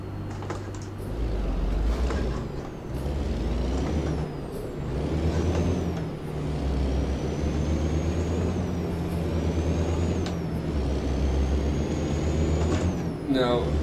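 A truck in American Truck Simulator rumbles steadily with engine drone throughout, ending in a short hissing air brake release; someone talks over it.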